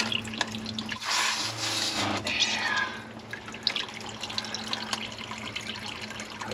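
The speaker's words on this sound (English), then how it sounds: "I'm running fresh water through it" Fresh water running through a sailboat's plumbing while the boat is careened on a beach, a gushing splash that swells for a few seconds and then settles into a softer trickle, with a steady low hum beneath.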